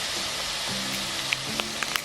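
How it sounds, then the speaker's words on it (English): Water poured into a frying pan of vegan peri peri mince, heard as a broad hissing sizzle with a few sharp pops and spatters, close and steady. "at this point you are allowed to pour some water in."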